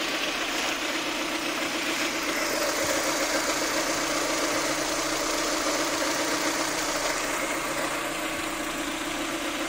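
A car engine idles steadily at about 870-880 rpm, a constant close, loud mechanical hum with an even rhythmic knock and vibration throughout, no voices.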